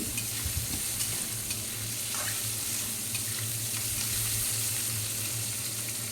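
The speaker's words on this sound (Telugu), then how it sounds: "నువ్వులు ఒక స్పూన్ వేసాను కట్ చేసి పెట్టుకున్న ఉల్లిపాయ ముక్కలు ఇది కొద్దిగా వేగాలండి" Chopped onion pieces and a spoonful of sesame seeds frying in hot oil, a steady close sizzle with stirring scrapes throughout, no talking.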